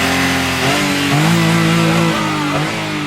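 A car engine revs loudly and steadily close by, its pitch rising and falling over a few seconds, with no voices over it.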